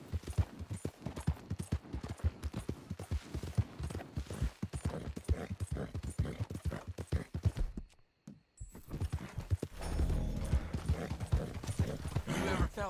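Steady clip-clop of horse hooves in a Western-style video game, a fast walking rhythm running nearly throughout under a man's spoken lines, dropping out briefly before resuming.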